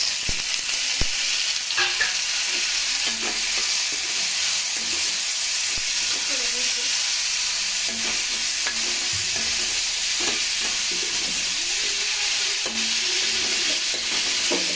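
Onion and tomato with ginger garlic paste sizzling in a pan, a steady loud hiss of frying with occasional scraping stirs and faint knocks, continuous and close, no talking heard.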